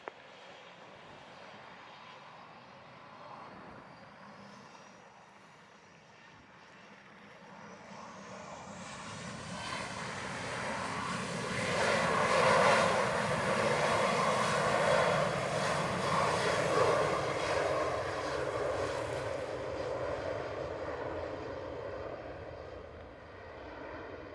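An airplane takes off from runway 07 in Jamaica, its engine roar building from a distant hum to a loud, broad peak as it passes, then fading slightly. The sound is steady and continuous, with no voices.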